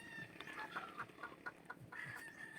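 A brooding dark-legged hen sitting on a clutch of eggs gives soft, repeated clucks and low grunts, near and fairly steady, with no talk over it.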